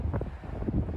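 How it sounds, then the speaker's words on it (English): Low, blustery wind rumble buffets the microphone for a second on the Mojave Road in the desert, steady and fairly loud with no voices. "Still kind of windy"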